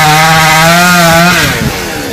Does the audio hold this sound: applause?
no